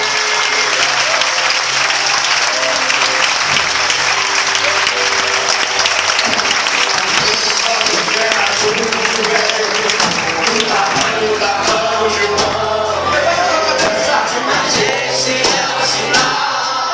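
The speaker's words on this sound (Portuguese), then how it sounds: "Quem pode aplaudir a Ele?" Sustained, loud applause from a church congregation at a Methodist service, dense steady clapping that carries on for many seconds with a few sharper individual claps standing out toward the end.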